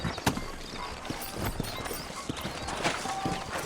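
Horse hooves clip-clopping in Red Dead Redemption as a rider mounts up and sets off on the trail, a steady close rhythm of hoofbeats with a brief neigh near the start and game ambience around it.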